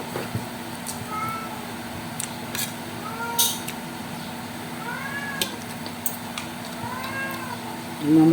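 A pet cat meows repeatedly in short rising calls, fairly close, over a steady background hum, with a louder final cry.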